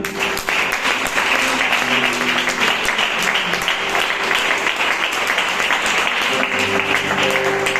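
A church congregation applauds during a sermon, a loud continuous roar of clapping that lasts throughout, with sustained tones that sound like instruments playing underneath.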